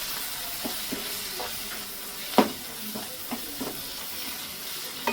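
Bitter gourd curry being stirred in a hot pan after sambar powder and jaggery go in, with a soft steady sizzle and scattered light scrapes and knocks of the spoon, one sharper clack partway through, no talking.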